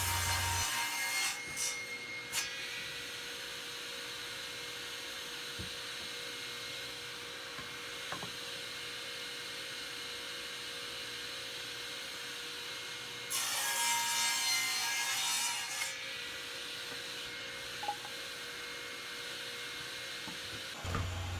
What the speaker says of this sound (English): I made a couple of rough marks on two pieces of 2x4 cedar, and I'm cutting everything to rough length.